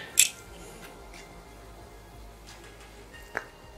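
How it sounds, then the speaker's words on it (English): Two quiet snips of scissors cutting horsehair, one near the start and one near the end, separated by soft background hiss. "taking our knife or our scissors, we cut"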